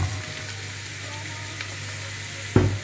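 Carrot and potato pieces fry in a pan for a bunny chow curry with a steady, close hiss, a low hum beneath it, and a brief louder clatter near the end as the pan is stirred.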